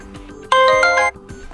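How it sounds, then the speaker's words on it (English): A short melodic system alarm ringtone on an OPPO A16s smartphone plays a bright chiming phrase of stacked tones for about half a second, loud and close, with quieter electronic tones before and after. "one of those system ringtones"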